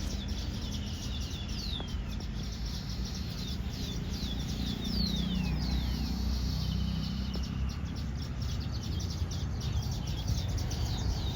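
Busy outdoor chorus of weaver birds chirping and twittering at nests in a coconut palm, steady and moderately close, over a constant background hum.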